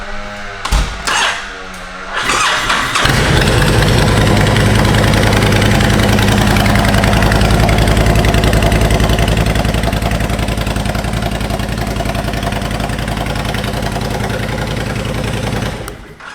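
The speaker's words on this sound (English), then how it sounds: "Let's start this baby up so you guys can hear it run real quick." A 2007 Honda VTX 1300 motorcycle engine with a slightly weak battery cranks in a few short bursts, then fires and settles into a loud, steady, rumbling idle held for over ten seconds close by.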